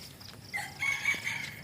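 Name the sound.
rooster crowing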